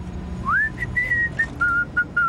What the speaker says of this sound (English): Are you going to whistle this whole trip?